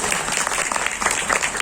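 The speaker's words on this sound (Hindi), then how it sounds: "तालियां बजा दो इसके लिए" Audience applause for a young girl at a gathering, a dense steady clatter of many hands clapping at moderate loudness throughout, with faint voices mixed in.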